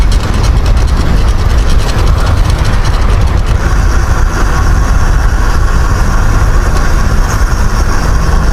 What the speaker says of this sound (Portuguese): parece que é só quando eu pedalo que faz esse barulho